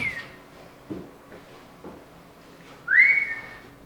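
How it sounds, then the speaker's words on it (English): A person whistles a rising then sustained tone near the end, loud and alone, following faint scattered knocks in a quiet room of a bar. "Maybe if I whistle for you. I'm really good at whistling, actually."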